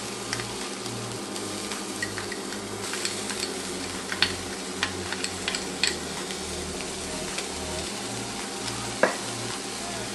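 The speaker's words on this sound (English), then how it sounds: "First thing I'm gonna add is some minced garlic. I'm gonna add some of that right into the pan." Minced garlic sizzling in hot olive oil in a pan, a continuous soft fry hiss with scattered clicks and pops, close and unbroken, no one talking.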